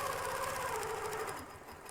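A home sewing machine stitches along a line on a quilted sherbet-colored table runner, running with a steady close whir that slows and softens near the end; no voices.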